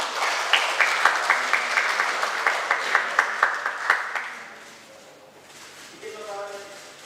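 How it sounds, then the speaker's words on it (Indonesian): An audience at a formal signing ceremony claps, with sharp individual claps standing out over a crowd for several seconds before fading. A voice then begins speaking. "Boleh berikan tepuk tangan?"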